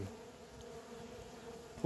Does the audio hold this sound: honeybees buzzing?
yes